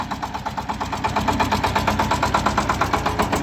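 A Shifeng 244 belt-driven, single-cylinder, four-wheel-drive mini tractor engine chugs steadily at idle, its rapid even pulses close and loud, with a faint mechanical rattle and no voices.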